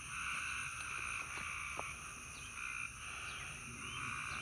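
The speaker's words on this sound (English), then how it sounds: "These might be tree frogs." A dense chorus of frogs croaking in a pond, some of them tree frogs, forms steady layered trills that run continuously and loudly throughout, with a few sharper calls poking out.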